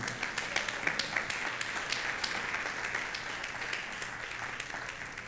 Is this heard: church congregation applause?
yes